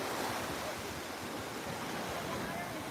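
Wind blows steadily across Fort Myers Beach, a constant broadband hiss and rumble of gusts mixed with the wash of surf, heard fairly quietly and evenly throughout.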